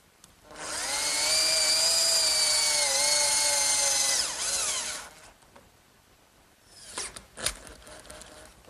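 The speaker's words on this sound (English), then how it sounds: "I'll hold it in place with some screws in the holes that I drilled earlier" A power drill drives screws to hold a wooden bed rail in place, with one loud sustained whine of about four seconds that dips in pitch under load, then a few knocks and clatters.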